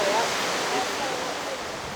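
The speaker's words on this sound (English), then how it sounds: "It's a waterfall." A waterfall roars as a continuous broadband rush, loud and even across the whole short stretch, with no distinct voices standing out.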